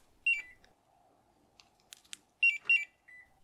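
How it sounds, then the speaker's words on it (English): A few short electronic chirps from a factory car alarm with a Compustar CM7000 system on lock, a quick pair followed by another pair, with faint clicks and light mechanical noise between them. "only the OEM alarm beeps, the siren doesn't chirp anymore"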